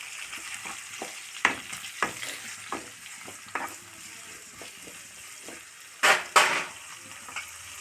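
Cumin and fennel seeds fry in hot oil for a brinjal curry, a soft continuous sizzle with scattered crackles and pops, plus a couple of sharp louder spits near the end.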